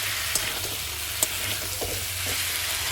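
Cauliflower sautéing with salt and spices in a pan sizzles steadily, with soft scrapes and a couple of sharp utensil taps over the constant frying hiss.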